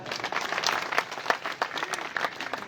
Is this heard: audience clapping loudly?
yes